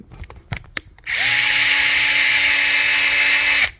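A power driver runs a mounting screw into a steering servo on a Losi LMT RC truck, a loud steady whir of about two and a half seconds that cuts off sharply, preceded by a few small handling clicks.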